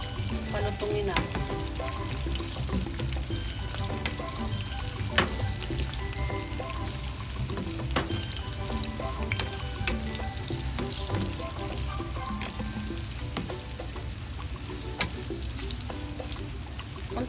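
Pork and tofu frying in a pan give a steady, dense sizzle with crackles and spattering pops throughout, close and continuous with no talk.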